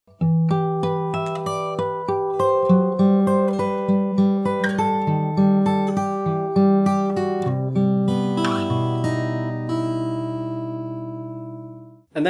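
An acoustic guitar is played fingerstyle in a slow, melancholy passage, with plucked bass notes under a picked melody that sustains close and clear. It ends on a final ringing chord that fades out.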